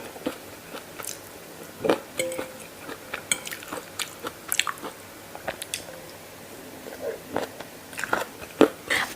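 Homemade spicy Thai noodle salad, a local dish of Krasang district, is bitten and chewed close up, giving a series of irregular crisp crunches and wet squishy bites with pauses between mouthfuls, no talking.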